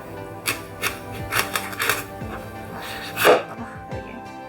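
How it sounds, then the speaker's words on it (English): A knife chopping apples into slices on a cutting board for apple crumble, with a few separate knocks and one louder thud, close and clear in an otherwise quiet kitchen. "I'm going to chop them into like slices,"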